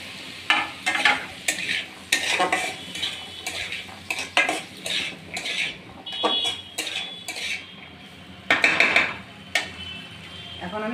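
Peas, soybeans and leftover rice stir-fried together in a wok, loud repeated metal spatula scrapes and clatters over a light sizzle, in uneven bursts with short pauses.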